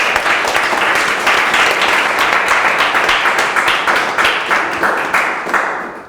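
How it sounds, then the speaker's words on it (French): Studio audience at an art competition finale applauding loudly, a dense steady clapping that holds for several seconds then tapers off at the end. "On applaudit très fort, s'il vous plaît."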